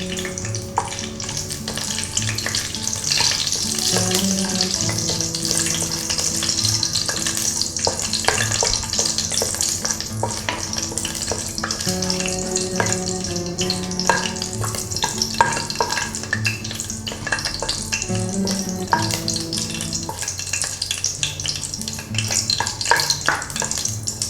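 Cinnamon, cloves, cardamom and fennel seeds fry in hot oil for a vegetable biryani, giving a steady loud sizzle punctuated by repeated scraping stirs of a spoon against the pan.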